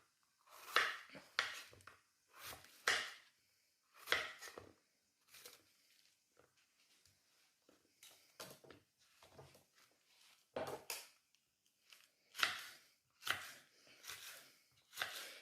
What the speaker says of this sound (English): Now the key to cutting your veg is just make sure you have a nice sharp knife